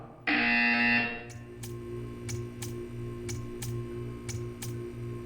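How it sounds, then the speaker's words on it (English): A loud, harsh electronic buzzer in Portal 2 blares for about a second, followed by a steady electronic hum with a series of regular ticking clicks. "You will hear a buzzer."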